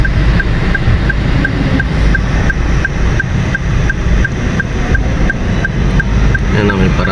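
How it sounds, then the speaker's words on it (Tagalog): Night-time city traffic in Ayala: a steady, loud wash of car engines and road noise runs throughout, with a faint repeating electronic beep ticking along about twice a second and some voices mixed in underneath. "Ayan o, traffic."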